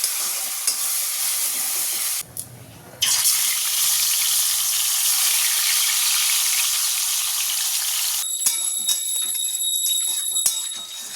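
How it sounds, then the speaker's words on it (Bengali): Oil sizzles loudly and steadily in a hot wok as fish fries, briefly dropping off for a moment before the crackling frying resumes, with faint clinks near the end. "এখানে কড়াই তেল বসিয়েছি মাছ ভাজবো বলে"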